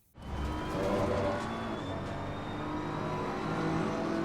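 Race car engine in Assetto Corsa Competizione at the Nürburgring, kicking in abruptly and holding a loud, sustained roar under throttle as the car accelerates out of a corner, with no talking.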